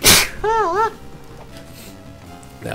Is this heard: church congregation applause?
no